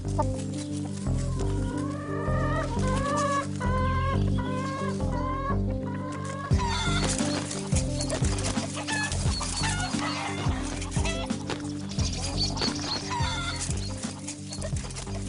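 Chickens cluck and chatter continuously, several birds close together, with rising, squawky calls layered over a busy farmyard background.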